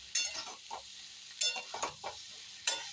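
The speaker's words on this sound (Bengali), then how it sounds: "এই মিষ্টিটা দিলাম, দিয়ে আরেকবার নাড়িয়ে ঢাকনা চাপা দিয়ে রেখে দেবো।" A spoon stirs a cooking pot after sweetener is added, giving a few brief scraping strokes over a faint sizzle, quiet and close with short gaps between strokes.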